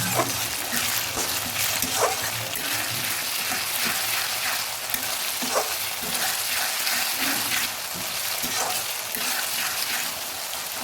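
Garlic paste fries in hot oil for a papaya and country chicken curry, a continuous close sizzle with periodic stirring scrapes and taps of a utensil against the pan.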